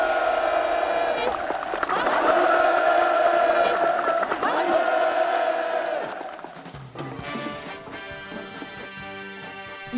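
Enthusiastic applause from a gathered crowd at a certificate ceremony for new village houses, a dense steady clapping that fades after about six seconds into quieter sounds.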